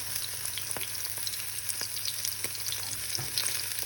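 Bite-sized tuna patties frying in oil as they are flipped, a soft, even sizzle with faint crackles and a few light clicks of the turner, fairly quiet and without speech.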